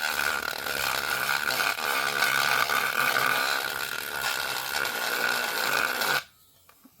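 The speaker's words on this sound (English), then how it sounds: "But this little Dremel tool, it's cordless." A cordless, USB-charged Dremel rotary tool grinds a resin bowl with a loud, steady high-pitched whine and rasping buzz that runs unbroken for about six seconds, then cuts off abruptly into near silence.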